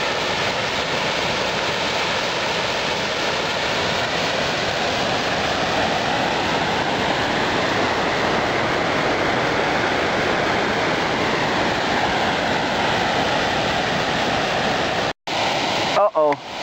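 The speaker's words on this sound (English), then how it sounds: "So this, I assume, is water flowing out of the canal." A broad, steady rush of water flowing out of the Erie Canal near Holley persists loud and unbroken throughout, heard close by along the towpath and cut by brief handling knocks near the end.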